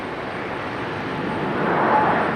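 A Delta Airbus A320neo jet landing at Raleigh-Durham airport, a steady broadband engine roar that swells slightly louder toward the end, heard alone at moderate distance.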